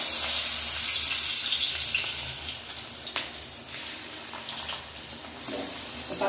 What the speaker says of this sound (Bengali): তেলে মাছ দিয়ে দেবো।